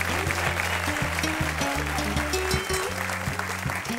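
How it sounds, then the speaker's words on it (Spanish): An audience applauds during a Canary Islands variety show, a broad wash of clapping running beneath sustained musical tones and chords that fill the whole stretch at steady volume. "Tiene que sonar más fuerte el aplauso para una grande de esta tierra, Beatriz Alonso."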